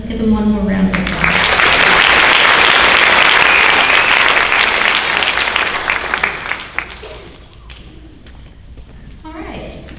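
Loud, dense applause from an audience at a 2019 Bremen High School honors night, swelling after a brief voice and fading near the end, where speech resumes over the clapping.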